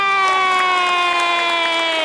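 Children at a Wiggles show cheer together with a sustained, high "yay" and steady rhythmic clapping for Anthony, loud and bright, with no speech over it.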